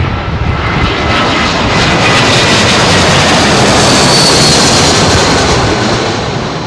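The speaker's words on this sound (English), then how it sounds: "beautifully executed landing" A jet airliner passes low overhead on final approach to runway 27L at London Heathrow in strong wind, its loud broadband engine roar steady and close for the whole span, swelling slightly as it goes by, with no talk.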